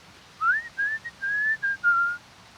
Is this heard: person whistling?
yes